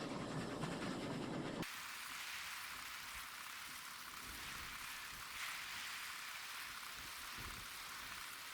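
A train runs along a railway in the video game Oddsparks, giving a steady broadband rumble and rushing noise that shifts abruptly early on and then holds evenly throughout, with no talk.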